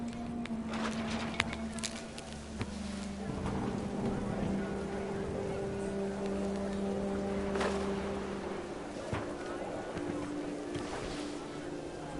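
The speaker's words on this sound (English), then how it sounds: "The rain came down in buckets then" Heavy rain pours down steadily in a stormy scene from the video game What Remains of Edith Finch, a dense continuous wash with low rumbling and a faint sustained tone underneath, no one speaking.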